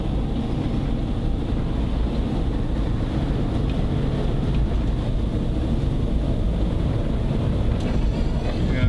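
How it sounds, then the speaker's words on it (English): Steady, loud wind rumbling against the microphone, a constant low roar with no pauses for the whole stretch. "There's a bit of a windy one coming in as well today"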